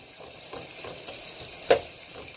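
Bacon pieces fry in a pan for spaghetti alla carbonara, a soft steady sizzle with one sharp clack of a utensil breaking up the strips.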